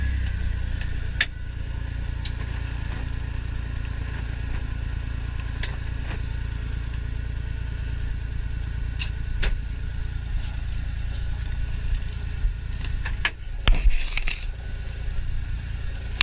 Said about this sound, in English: There goes another Kawasaki mule.